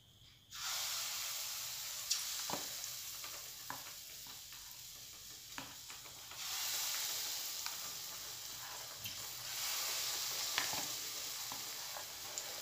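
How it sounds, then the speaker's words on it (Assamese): Carrot malpua batter sizzles and crackles in hot oil in a frying pan, a steady close hiss that swells as more pieces drop in, with no one talking. "তেলটো গৰম হ'লে আপোনালোকে এই পিঠাবিলাক মানে মালপোৱাটো দিব পাৰিব।"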